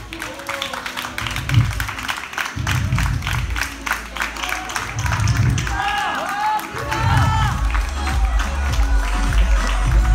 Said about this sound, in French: je vais demander à toute mon équipe de management de vous applaudir et de vous respecter